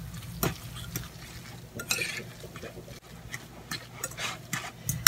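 An egg is stirred into a salmon patty mixture in a bowl, making soft, close, wet scraping and stirring strokes in irregular bursts, with no voices.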